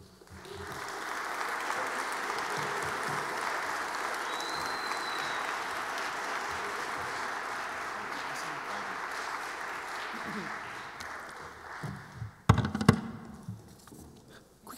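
A lecture hall audience applauds at a Martin Luther King Day event, sustained and even for about ten seconds before it fades. It ends in a few loud knocks and handling noises.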